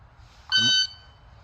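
A shot timer sounds one steady electronic beep of about a third of a second, loud and close, with a short lead-in tone and quiet room hiss before and after.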